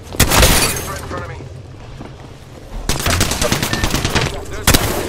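Gunfire in the battle royale game Apex Legends, bursts of rapid automatic fire and sharp cracks that come in close, loud clusters, with a brief lull before another volley, mixed with voices talking.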